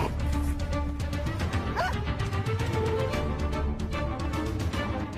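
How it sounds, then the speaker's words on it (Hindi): A dog yips and whimpers in short repeated bursts amid constant dense background noise, with brief rhythmic tapping throughout. "आगे से मुझ पर भोंकने की सोचना भी मत"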